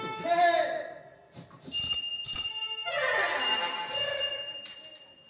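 An electronic doorbell chimes a sustained ringing melody, loud and close, with people talking before and during it.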